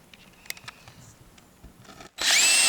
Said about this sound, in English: You just want to get that screw low enough that your compound will cover it.